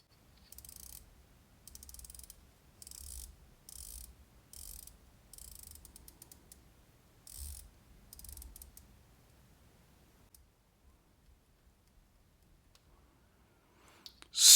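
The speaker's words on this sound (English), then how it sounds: "each click of the 120 click bezel is sharply defined" A 120-click bezel on a tactical watch being rotated: crisp, close bursts of rapid ratcheting clicks in short runs separated by pauses, then quiet toward the end before a brief knock.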